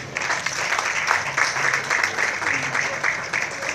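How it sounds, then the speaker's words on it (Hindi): An audience claps heartily at an event honouring service to humanity, a dense, fairly loud patter of many hands that swells and dips slightly throughout, with a faint murmur of voices underneath. "आपकी जोरदार तालियां काफी है"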